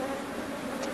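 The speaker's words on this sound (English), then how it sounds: "Man, look at all the bees down in this box." Honey bees buzz inside a hive box, a dense, continuous close-up hum of many insects with no voices over it.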